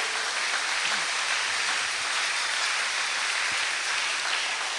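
A church congregation applauds continuously, a dense, even wash of clapping that holds steady throughout with no talking.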